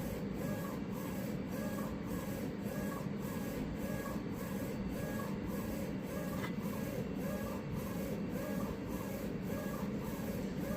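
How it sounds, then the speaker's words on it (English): A DTF printer, just back in use after sitting idle for 12 days, lays down color ink and then white ink on top of an 11 by 11 print, with a steady mechanical hum and evenly repeating carriage passes, alone and continuous. "Printing our colors first and then printing our white on top."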